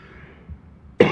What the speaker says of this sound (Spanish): Tengo una tos que no es de COVID.